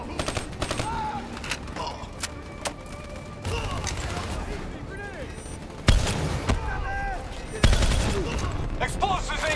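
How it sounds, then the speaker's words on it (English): A swarm launcher fires amid a Call of Duty: Black Ops 3 firefight, with sharp launch blasts and heavy impacts punctuating continuous gunfire while soldiers shout over the chaos. "Hit them with the swarm launcher!"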